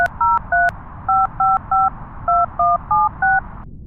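A telephone number is dialed on a touch-tone phone, producing about eleven crisp, loud beeps in quick, slightly uneven succession, close up with no voices.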